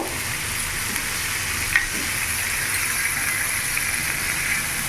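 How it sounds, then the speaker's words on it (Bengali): Chopped tomato and spices frying in a kadai over a medium gas flame for kadai paneer, giving a steady, even sizzle with a faint hiss, close and continuous, with no talking. "মশলাটা ততক্ষণ কষবো যাতে কাঁচা গন্ধটা না যায়"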